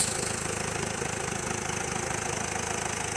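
A 2017 Peugeot Partner L1 van's 1.6 HDi Euro 6 diesel engine ticking over at idle, a steady close rhythmic chatter with an even, unchanging hum throughout.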